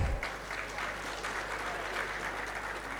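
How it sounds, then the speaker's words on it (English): Applause from the audience at an agricultural conference's inaugural session welcomes the guests, a steady dense clapping wash that holds evenly throughout, with a low hum underneath. "Please join me in welcoming them with a very big round of applause"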